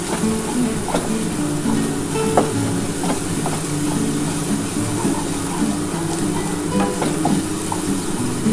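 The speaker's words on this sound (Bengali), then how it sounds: "দিয়ে ভালো করে একটুখানি মশলাটা কষিয়ে নেবো" Masala with ground green chili and a little Kashmiri chili powder fries in a pan for a duck egg korma, a steady broad sizzle with faint scraping stirs throughout.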